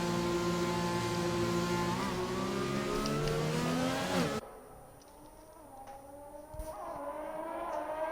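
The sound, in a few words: race car departing pits at Silverstone in racing video game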